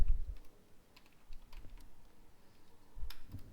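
Code being typed on a computer keyboard for a JavaScript lesson, with scattered clicky keystrokes in short irregular bursts, fairly close, and no talking over them.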